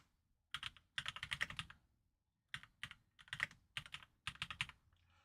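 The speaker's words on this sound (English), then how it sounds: "All that with 2 fingers for typing." Rapid clicking keystrokes on a computer keyboard come in several bursts separated by short pauses, close and fairly quiet with no talking.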